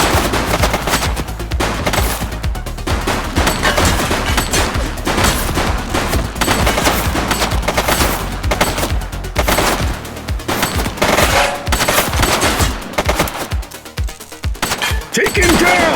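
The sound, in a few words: gunfire in a police video game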